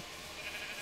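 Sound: sheep bleating in a video game

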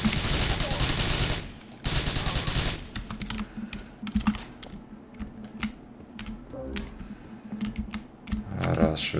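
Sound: gunfire in video game GTA 4

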